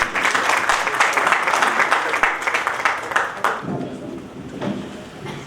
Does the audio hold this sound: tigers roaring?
no